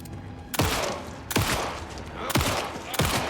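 Four heavy gunshots in Alan Wake II, loud close blasts spaced roughly a second apart, each with a sharp attack and a short booming tail.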